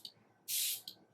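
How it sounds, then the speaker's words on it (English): A single sustained hissing burst of spray from a Patrick Ta Major Glow Dewy Milk Mist facial spray bottle, close and bright, flanked by faint clicks of the pump. "I'm gonna spray my face"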